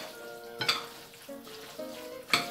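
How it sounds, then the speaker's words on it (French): Quinoa tabbouleh being mixed in a bowl with a spatula, giving soft scraping and stirring strokes, with a couple of sharper clinks near the start and end; close and quiet, with no talking. "Je mélange bien."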